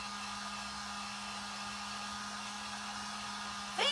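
A hair dryer drying paint on burlap candy corn, blowing with a steady, even whir and a constant low hum from start to finish, ending in a brief louder burst.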